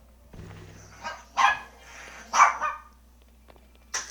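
A pet dog named Kuko lets out a few sharp barks and yips spaced across the moment, moderately loud against a low steady hum.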